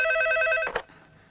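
An old-style telephone bell rings in a continuous trill that stops abruptly, followed by a brief clatter as the receiver is picked up, in a Hindi horror-action film scene.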